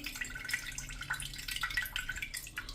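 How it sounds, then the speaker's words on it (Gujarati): Water trickles and drips steadily as it drains from soaked rice, a soft continuous splashing with faint droplet ticks, fairly quiet and without voices. "તો આ રીતે આપણે પાણી નિતારી લેશું"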